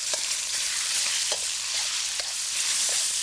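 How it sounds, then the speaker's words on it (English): Marinated beef stir-frying in a hot wok, a loud continuous sizzle broken by regular clacks and scrapes of the utensil as the meat is tossed. "I'm going to add the beef and stir fry"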